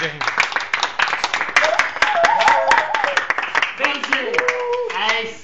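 Crowd applauds at the 25th anniversary ceremony of the Genesi 82 association in Cava de' Tirreni, with brisk, uneven clapping while several voices talk and call out over it.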